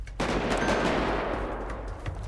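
Gunfire rattles in a GTA 5 roleplay favela invasion: a loud, dense burst of rapid shots that starts abruptly and keeps going as one sustained volley, with no talking.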